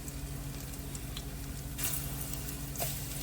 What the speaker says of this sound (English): you're just gonna throw your plantains in the pot and make them go on fry